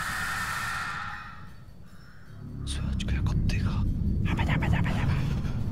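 A monster in a Backrooms-style horror video game breathes in slow, rasping, whispery gusts, with a steady low rumble of game ambience beneath.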